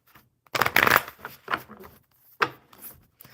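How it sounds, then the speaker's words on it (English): Playing cards riffle in a few quick, crisp bursts, with softer rustling between shuffles. "One more good shuffle for Duncan."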